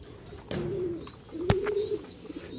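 Racing pigeons kept in a loft during conditioning training coo twice, a low throaty call near the start and a second around the middle, close by and fairly clear, with faint chirps and light background noise in between.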